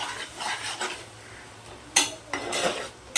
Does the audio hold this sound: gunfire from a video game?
no